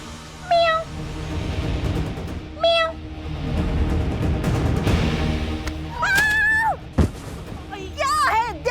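A pet cat meows several times in a domestic scene, with rising and falling cries spread across the clip, some sharp and high, over a busy background of movement and noise.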